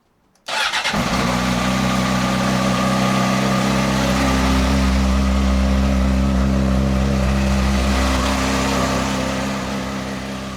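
A Honda CBR600RR sport motorcycle engine starts after a brief silence and settles into a loud, steady idle with a constant low hum, running up close for about ten seconds.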